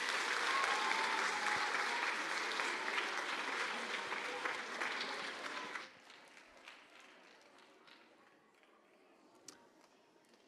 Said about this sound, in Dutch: mag ik een groot applaus voor professor Jos Zwanenberg